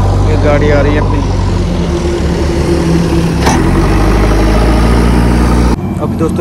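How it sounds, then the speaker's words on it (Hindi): A heavy dumper truck engine on a construction site service road, a steady loud low diesel drone drawing nearer, with someone talking over it throughout. "ये गाड़ी आ रही है अपनी।"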